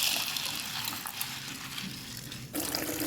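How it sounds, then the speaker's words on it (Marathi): Water sloshes and splashes as dried beans are rinsed and swirled by hand, a steady close wet rustle with a brief pause near the end. "वाळलेल्या वरण्यानाच म्हणजे वाळल्याला स्वच्छ धुवून घ्यायचं"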